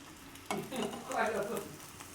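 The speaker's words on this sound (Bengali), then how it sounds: "নাস্তার জন্য ডিম ভাজা হচ্ছে" Eggs frying in a pan for a home breakfast, giving a close, continuous crackling sizzle that swells and fades slightly as the food is moved around.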